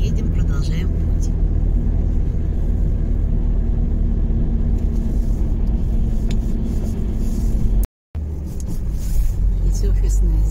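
A car driving along a road near Jurmala, heard from inside as a steady low engine and road rumble with tyre noise, continuous and close, with a brief dropout near the end; people talk over it.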